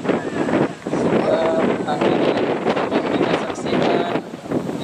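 Strong gusty wind buffets the microphone at an outdoor youth football match on a clear afternoon, a loud continuous rumble throughout with faint crowd and commentary voices mixed underneath.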